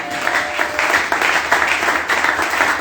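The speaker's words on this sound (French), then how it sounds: "C'est pourquoi nous applaudissons l'accomplissement de cette prophétie." A church congregation breaks into sustained applause, a dense wash of clapping that swells and dips in waves, loud and close, with no speech over it.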